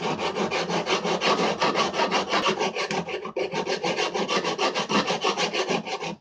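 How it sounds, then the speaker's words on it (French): A hand file rasps along the edge of a knife blade being made for skinning game, a loud, close, rhythmic run of scraping back-and-forth strokes with a brief pause midway, no talking. "On maintient bien ici et on lime."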